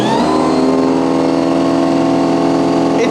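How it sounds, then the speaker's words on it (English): Snow Joe 24V-X2-SB22 electric snow blower with its auger spinning up, a loud steady motor whine with strong tonal harmonics that rises briefly at the start, then holds constant, up close. "the auger's gonna start spinning"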